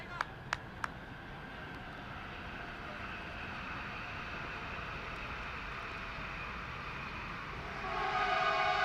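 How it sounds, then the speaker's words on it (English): A train horn sound effect from a live T10 cricket broadcast holds long sustained tones with a few short clicks at the start, then swells louder near the end. "The old sound effects from the old train coming in."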